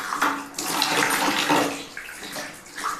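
Water runs steadily from a newly installed 1-litre instant electric geyser, a loud continuous splashing gush with brief dips, close by and without talk.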